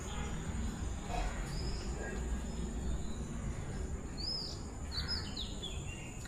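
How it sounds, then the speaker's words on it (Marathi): Small birds chirp in a green Konkan village, with a few short, high calls scattered over a steady, quiet background hum and bursts of tweets clustering toward the end. "पक्ष्यांचं किलबिलाट आहे का?"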